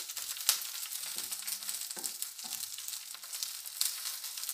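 Green and red chillies crackling in hot coconut oil for a Goan omelette mix, a soft steady sizzle with a few sharp pops and light stirring scrapes, fairly faint and without talk.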